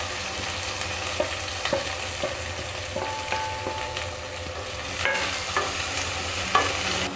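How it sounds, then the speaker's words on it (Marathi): Onion and garlic frying in a pan for bitter gourd bhaji, a steady close sizzle with scattered spatula scrapes and taps against the pan. "लसूण टाकला आपण आता कांदाही टाकू आपण याच्यामध्ये"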